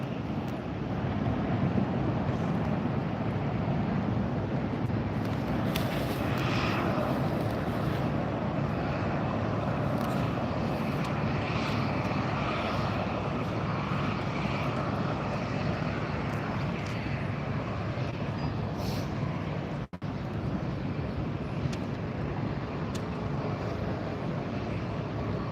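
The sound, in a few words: Southwest Boeing 737 airliner departing LAX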